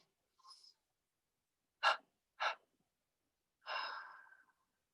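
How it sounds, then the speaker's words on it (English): Two short, sharp inhales in quick succession, then a longer, softer exhale through the mouth that trails away, each breath isolated against silence during a guided meditation. "Maybe just lightly tense the body and exhale through your mouth."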